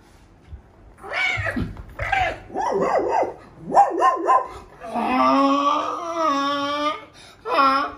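A blind man mimics cats and dogs fighting in a haveli, alternating close, loud barks with drawn-out yowling meows and caterwauls, several bursts in a row with short gaps, all produced by one human voice.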